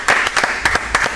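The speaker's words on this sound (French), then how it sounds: "ah non, on applaudit quand même." A small audience claps at a May Day gathering in Sète, with a few quick bursts of hand claps close by that come in short, uneven groups.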